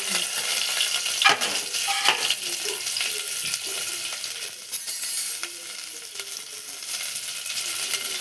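Onions and curry leaves sizzle steadily in a small amount of hot oil in a pan, a continuous bright crackle with occasional sharper pops and stirring clatter, close and fairly loud with no talk.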